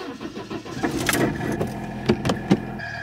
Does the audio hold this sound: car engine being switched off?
yes